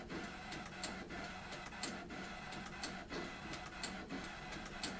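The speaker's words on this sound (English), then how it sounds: "It's actually cutting the score lines, which are the fold lines for the envelope." A Brother ScanNCut machine cuts fold score lines for a gift card holder envelope, giving a faint, steady mechanical hum with regular soft ticks about once a second.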